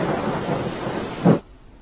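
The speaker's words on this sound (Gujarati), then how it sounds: "દેવભૂમિ દ્વારકાના દ્રશ્યો કે જ્યાં ધોધમાર વરસાદ વરસ્યો" Heavy rain pours steadily in Dwarka, Gujarat, with a deep rumble of thunder swelling near the end before it cuts off abruptly.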